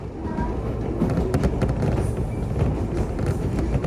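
A Sunrise Izumo sleeper train rolls steadily along the tracks in Japan, a continuous rumble with faint rhythmic clatter from the wheels, heard from inside the carriage.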